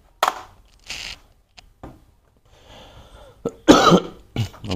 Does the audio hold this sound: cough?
yes